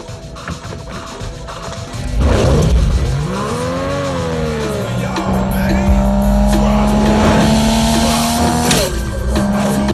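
A street-racing car's engine roars loudly and close, revving up and down with rising and falling pitch and a squeal of tires, then holding a sustained drone.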